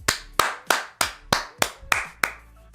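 Eight sharp hand claps at a steady, even pace, each a crisp slap with a short decay, loud and close with nothing else around them.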